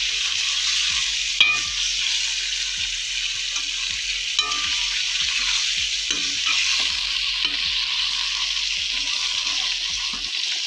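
Goat meat with drumsticks (sohanjna) being stir-fried in a pan, a steady close sizzle throughout, with scraping stirs and clinks of the spoon against the pan at irregular intervals.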